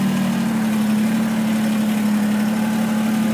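A 2019 Kubota BX2380 sub-compact tractor engine drones at a steady, even pitch while driving, loud and close with a constant low vibration and no one speaking.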